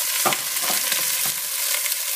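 Chicken pieces fry and brown in a hot pan, making a loud, dense, continuous sizzle up close, with a few soft bumps as pieces are moved and no voices.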